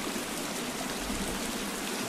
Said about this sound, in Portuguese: É muito alto o barulho da água, mano.